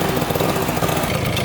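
A small DY49QT-28 two-stroke motorcycle engine idles close by, a steady buzzing putter with rapid even pulses throughout the short stretch and no talk.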